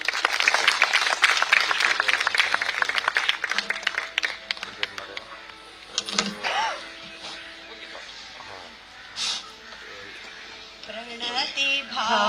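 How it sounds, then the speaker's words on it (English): Applause at the inaugural function of a bird festival in Goa, a dense burst of many hands clapping that fades after a few seconds into scattered claps and low room noise. "Let us welcome them with a big round of applause."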